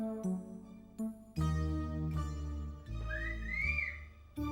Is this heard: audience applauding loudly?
no